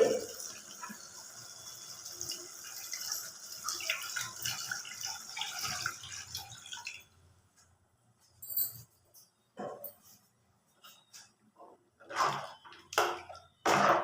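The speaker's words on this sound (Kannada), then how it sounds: "ಒಂದು ಅರ್ಧ ಚೊಂಬು ನೀರು" Half a jug of water pours steadily into a pot of avarekai (hyacinth bean) sambar with spice powders for a Sankranti meal, then stops, leaving quiet clinks and brief handling sounds.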